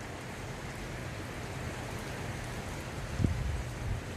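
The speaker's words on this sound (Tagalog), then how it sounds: "mapapansin niyo medyo malakas na naman yung ulan" Heavy rain falls in Dubai as a steady, dense hiss of drops on surfaces, with a brief low thump near the end.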